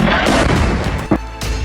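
A loud, heavy boom from an Israeli airstrike on a residential building in southern Lebanon rolls out as a broad roar, with a short crack partway through.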